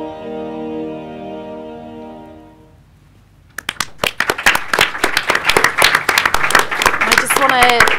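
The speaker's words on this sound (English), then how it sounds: "While you're clapping" A festival audience breaks into loud, dense applause after a fading sustained musical tone, the clapping building and continuing steadily to the end.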